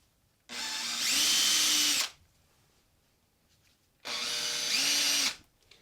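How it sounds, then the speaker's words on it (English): Power drill boring a bit into the side wall of a loose screw hole in wood, two separate bursts of about one and a half seconds each, the motor whine rising as the bit bites, close and loud with a short pause between. "I'll drive a drill bit into the side to give it a little bit of bite around the edges"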